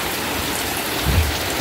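Heavy rain pouring outside, a dense, loud, unbroken rushing hiss of water close by, steady for the whole moment with a slight low swell near the end.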